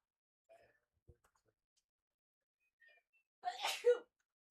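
A single quiet sneeze bursts out after a few faint scattered noises, short and fairly close in otherwise near silence, during a baseball radio broadcast.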